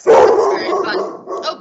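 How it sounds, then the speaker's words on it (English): A dog barks close by in the background of a home video call, a few quick yips and barks layered under a person speaking. "you can hear my dog barking in the background"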